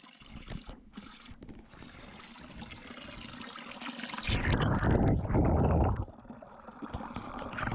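Spring water at the Lopaičiai hillfort near Rietavas runs in a soft steady trickle, swelling into a louder, fuller gush for a couple of seconds before easing back to a gentle flow.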